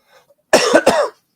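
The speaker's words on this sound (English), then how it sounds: "This is a nagging COVID cough." A single close, loud cough from COVID with two sharp bursts, following a brief faint sound.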